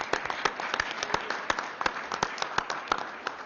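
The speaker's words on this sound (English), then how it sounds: "give a round of applause to everybody who spoke and testified today" A round of applause at a legislative hearing on voter fraud: a modest crowd clapping steadily for several seconds, with distinct individual claps standing out irregularly, moderately near and fairly quiet.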